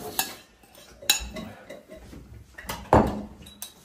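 Metal spoon clinking and scraping in a pan while chopped chili and tomato are stirred together, a few sharp clanks spaced between quieter scrapes, faint speech in the background.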